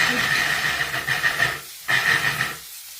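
A food chopper pulses in short bursts while chopping ingredients for shrimp scampi, giving two loud, close whirring runs of about a second and a half each, separated by a brief pause, with no talk.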